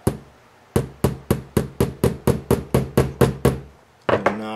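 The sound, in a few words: knocking couplers into place on model SD40 locomotive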